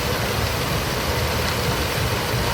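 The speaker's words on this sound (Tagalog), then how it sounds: "ganyan pala ang pag-crusher ng mga bato" Stone crusher machinery runs at an aggregate plant in Santa Maria, Bulacan, a loud, dense, unbroken mechanical roar with low rumble and gritty wideband noise, close and constant with no talking.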